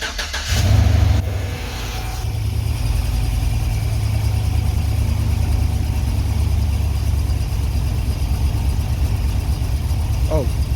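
2016 Chevy Express van with an injector circuit fault cranks and fires, revving briefly before settling into a steady, loud idle heard close up.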